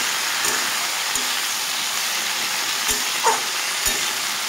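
Okra with salt and turmeric fries in an open pan with a steady, rain-like sizzle close up, punctuated by a few soft taps and stirs of a spatula, with no talking.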